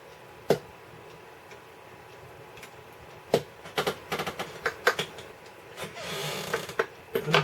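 Wire cutters snipping component leads on a Roland MKS-20 circuit board: several crisp clicks spaced unevenly against a steady background hiss, close and fairly loud, with no voices.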